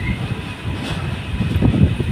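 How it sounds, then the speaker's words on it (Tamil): A train rumbles past on the adjacent track beside a moving Ekta Nagar–Chennai superfast express, a steady close roar with wind-like noise throughout the short stretch. "பக்கத்தில் ஒரு ட்ரெயின் இருக்குது"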